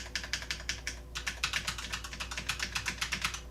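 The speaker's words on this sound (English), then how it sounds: "Let's see, let's put them next to each other." Quick bursts of typing on Cherry MX switch keyboards, clattering key presses in a fast, uneven rhythm with a brief pause near the start.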